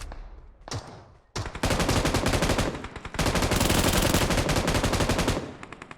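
Loud automatic gunfire in PUBG Mobile, a few isolated shots at first, then two long sustained rapid bursts separated by a short pause, close and dominant.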